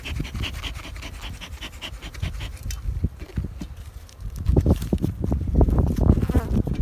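Honey bees hum and buzz around a hive in February, a steady close drone broken by handling noises that grow louder and denser toward the end.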